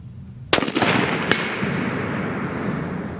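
A Sako 85L Grey Wolf rifle in .30-06 fires one loud, sharp shot outdoors, followed by a long rolling echo that fades slowly, with a second fainter crack soon after.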